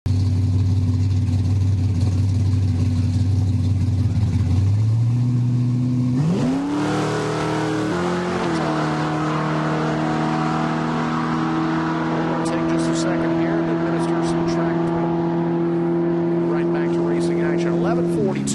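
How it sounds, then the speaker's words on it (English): An orange 1969 Chevrolet Camaro on a drag strip at Heartland Park in Topeka, its loud engine holding a steady drone and then revving sharply upward through the gears, with a commentator talking over it. "Ray driving the orange 69 Camaro"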